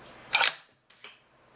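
Opening the action of a Savage Impulse Predator rifle by pressing a button and pulling the lever gives a sharp metallic clack followed by a softer second click, close and isolated in quiet.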